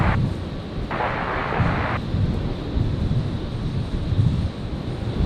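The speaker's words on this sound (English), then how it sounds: "The shame the wind has picked up a bit, but which kind of blows some of the equipment about" Gusting wind at Brisbane International Airport buffets the microphone with a steady low rumble and rushing hiss, swelling in uneven bursts throughout.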